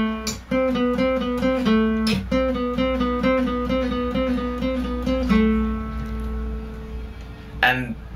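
A guitar plays the lead riff of a song: a run of short, repeated picked notes that settles into a held note, ending with a sharp strummed accent. It is close and clear, with no talk.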